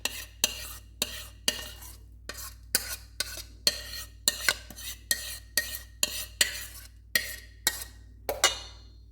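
A mango ice candy mixture with milk is stirred in a large container, the utensil scraping and clinking in about fifteen quick, regular strokes against the sides, close and clear with no talking.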